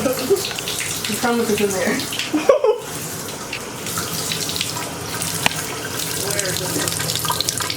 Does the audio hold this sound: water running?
yes